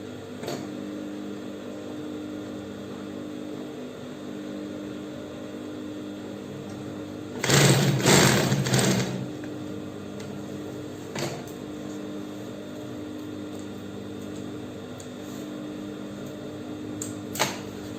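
One short burst of sewing machine stitching joins two panels of an Ankara fabric backpack, standing out briefly against a long stretch of low, steady background hum.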